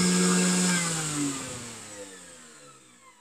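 A fast-spinning electric motor, just switched on, whines loudly with high tones that glide downward as the pitch and volume fall away over a few seconds, with no voices.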